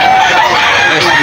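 A rooster at a rainy chicken market in Bocaue, Bulacan lets out a brief, loud, close crow or cluck, with market chatter in the background.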